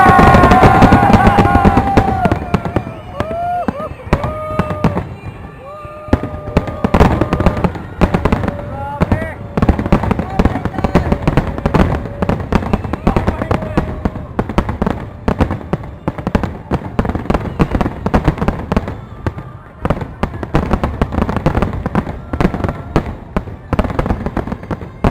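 Fireworks exploding in dense, continuous bursts of loud crackling and popping close by, with whistling rockets early on, while excited people shout and talk throughout.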